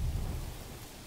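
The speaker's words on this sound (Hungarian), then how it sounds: "Esik az eső" Rain falls steadily in the medieval city-building game Manor Lords, a dense, even hiss with a low rumble underneath, loud and continuous with no speech.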